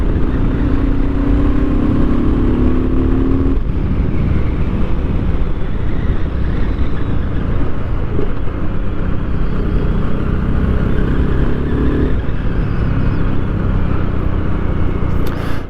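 A BSA Goldstar 650 motorcycle engine drones while riding, buried under heavy wind buffeting on the microphone, with a gear change shifting the engine tone a few seconds in.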